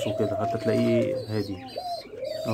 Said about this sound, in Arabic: صوت اليمام القمر اهو بيزوم اهو